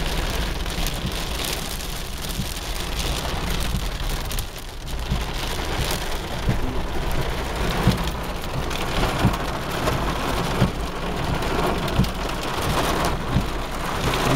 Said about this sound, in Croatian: na drugu stranu kiša pljusak